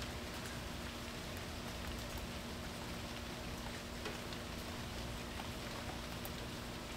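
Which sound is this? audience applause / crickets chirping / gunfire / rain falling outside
rain falling outside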